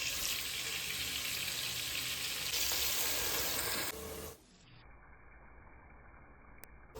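Ground masala paste of ginger-garlic, coriander leaves and green chillies frying in a hot pan, a steady loud sizzle for about four seconds that cuts off abruptly, leaving faint quiet background.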